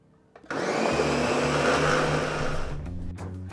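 A blender switches on and roars at high speed, a dense steady whir that runs for about two seconds before winding down.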